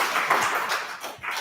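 Audience applause at a conference hall rings out as a dense burst of clapping, fairly close and lively, lasting just over a second.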